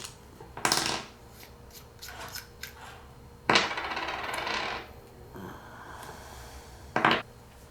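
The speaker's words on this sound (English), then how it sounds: "Let's break down the tank." An Innokin Endura vape tank being taken apart by hand, heard as a few separate close, light clicks and scrapes of small metal and plastic parts with quiet gaps between them.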